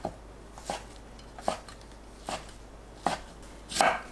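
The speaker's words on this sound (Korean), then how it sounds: "어묵을 반 자르고 1cm 간격으로 썰어주세요." A knife slices fish cake on a cutting board into 1 cm pieces, five or six distinct thuds spaced slowly and evenly, close and fairly quiet.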